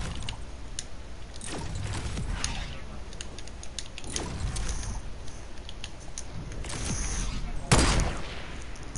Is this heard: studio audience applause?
no